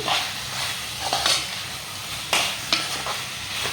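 Chicken curry being stirred in a frying pan, a steady sizzle under sharp scrapes and clinks of the spoon against the pan at irregular intervals, close and moderately loud.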